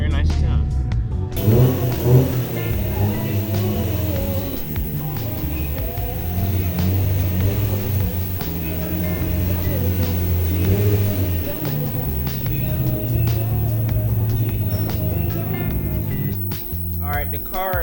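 A Nissan 350Z engine revving and pulling hard in a single gear, a steady mid-pitched rising drone heard close throughout, with people talking over it.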